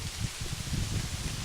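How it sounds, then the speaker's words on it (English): Steady rain falls outside in a dense, even patter with soft low thumps mixed in. It is moderately loud and continuous, and no voices are heard. "More rain."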